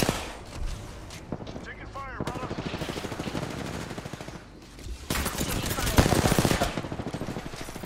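Rapid automatic gunfire in the shooter game Apex Legends, dense bursts of close shots with a louder volley near the end, under occasional voices.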